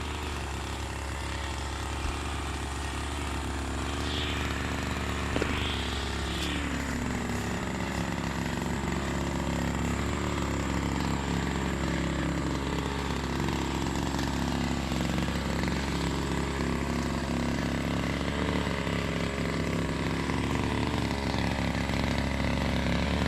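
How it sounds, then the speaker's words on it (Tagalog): A grass cutter engine runs steadily while clearing grass in an eggplant plot, a loud, close, buzzing drone that holds throughout, with its pitch repeatedly rising and falling as the blade works. "Nag-grass cutter po."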